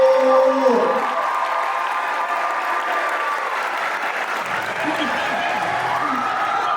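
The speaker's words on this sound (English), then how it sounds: "can we get a big round of applause for our guest today, Mr. Wallo?" Sustained applause and cheering from a high school audience in a gym during a live-streamed guest appearance, a dense, steady wash of clapping that carries on for several seconds with faint voices mixed in.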